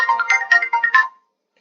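A phone ringtone for an incoming call plays close and clear, a quick melodic run of bright pulsing notes that cuts off abruptly into silence.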